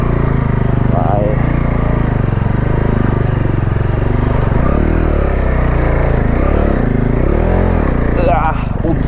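A Bajaj Dominar 250 motorcycle engine revs hard and labors loudly up a steep off-road dirt slope for the whole stretch, with a voice speaking over it.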